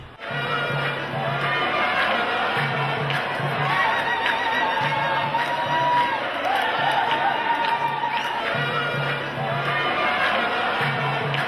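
A spring-day crowd fills a street in Oran during a heritage walk, with steady dense chatter and cheering voices near and far, a rhythmic low pulse recurring throughout.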